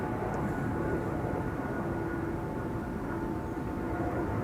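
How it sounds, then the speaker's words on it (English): KLM Boeing 777-200, 21 years old, departing Amsterdam Schiphol's Polderbaan runway 36L: a steady, broad jet engine rumble that holds evenly throughout at moderate distance, with no one talking. "It's KLM flight 661, 777-200 21 years old, first flight January 2004."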